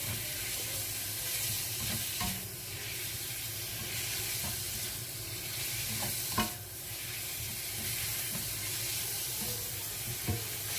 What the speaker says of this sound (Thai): เราก็ผัดไปเรื่อยๆนะคะ ผัดไปสักพัก